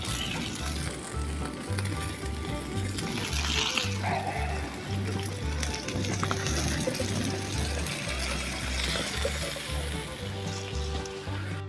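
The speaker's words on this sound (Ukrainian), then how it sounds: "закидаємо картопельку і будемо смажити" Steady crackling sizzle of potatoes frying in hot oil on a saj over a fire, continuous and fairly close, with a low rhythmic hum underneath.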